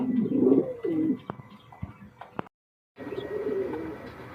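Pigeons coo in low, rolling bursts close by, with a brief silent gap before the cooing resumes steadily.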